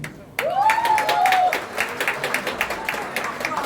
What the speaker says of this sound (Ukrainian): Давайте зустрінемо оплесками.